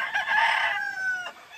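A fighting rooster crows at a cockfighting pen where each bird has its own cage, one loud, close, drawn-out call that fades at the end.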